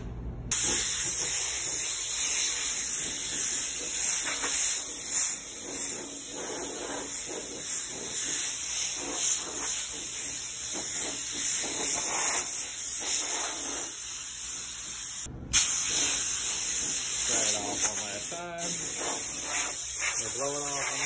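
Compressed air blows off a scuffed surface ahead of spray painting, a loud continuous hiss that runs throughout with brief breaks, while someone talks intermittently over it.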